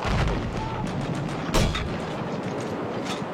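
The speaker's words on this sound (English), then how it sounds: "Alright, we're gonna see some mortars." Mortar rounds land in a video game, a run of heavy booming blasts with one sharp, loud impact near the middle over rumbling battle noise.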